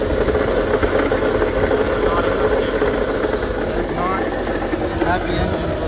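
A Mercedes G-Wagon engine idles with a steady mid-pitched rumble, loud and close, with a faint whine from the alternator or clutch area near the engine.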